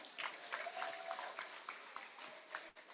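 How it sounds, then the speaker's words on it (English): An audience at a Christmas luncheon gives a faint round of applause, scattered claps heard from a distance over a steady tone in the background. "So let's hear it again for Mr. Terry."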